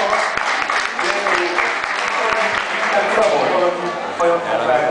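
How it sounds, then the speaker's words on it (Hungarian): Audience clapping together in a room, dense continuous applause with distinct hand claps throughout, steady and fairly loud. "Ó, van egy Gábor ilyen, hogy tapsoljuk meg."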